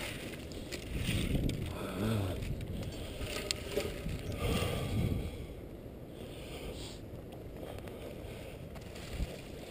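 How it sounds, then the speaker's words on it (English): Strong wind buffets outdoors beside a hedgerow, a low rumbling roar that swells and fades in gusts, loudest early on and then easing to a quieter steady rush. "Very strong wind at the moment,"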